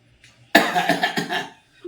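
A single close, harsh coughing fit from a person with a cold and fever: a quick burst of several coughs after a brief quiet moment.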